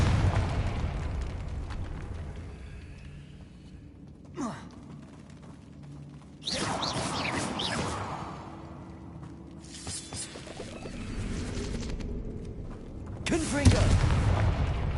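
Confringo fire spells from Hogwarts Legacy go off as several separate fiery bursts, each a sudden whooshing blast that fades out, spaced a few seconds apart against a quiet background.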